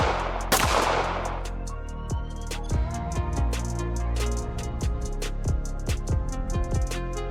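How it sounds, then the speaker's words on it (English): A 9.7 gram high-velocity bullet fired into concrete sets off a sharp initial crack with a burst of debris, followed by a scatter of faint ringing ticks and low thumps trailing off over several seconds. "The bullet strikes the concrete with a violent burst."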